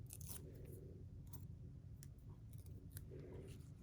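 Scissors snip through paper during card making, a few quick crisp cuts over a quiet, slightly noisy room, with no talk.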